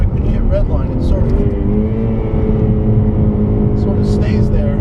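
A 2015 Ford Mustang EcoBoost turbocharged engine held near redline on a race track, a loud steady droning rev that lingers at a high pitch without dropping, with wind rush throughout and someone talking over it.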